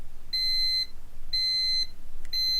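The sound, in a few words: digital thermometer alarm beeping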